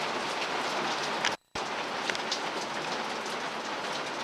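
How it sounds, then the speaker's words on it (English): Steady summer rain pours outdoors in a dense, even hiss of drops hitting surfaces, close and loud, cut by a brief moment of silence before resuming unchanged. "It's a nice summery rain."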